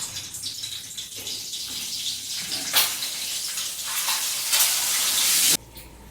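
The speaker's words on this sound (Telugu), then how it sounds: "ఫస్ట్ ఎగ్స్ అవి ఫ్రై చేసేసుకుందాం కదా" Eggs fry in hot oil with turmeric, giving a steady, bright hiss and crackle with occasional louder surges. The sizzle swells toward the end, then drops off abruptly to quiet.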